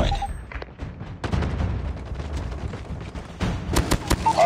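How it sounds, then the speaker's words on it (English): A sentry gun in Call of Duty Mobile fires in rapid, sharp bursts amid other battlefield gunfire, loud and close over a dense background. "Sentry gun deployed."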